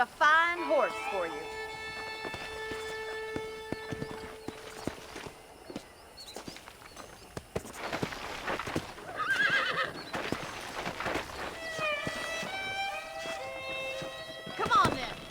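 A horse in the video game Red Dead Redemption whinnies loudly at the start and again near the end, with clip-clopping hooves and footsteps between, close and clear over faint game ambience.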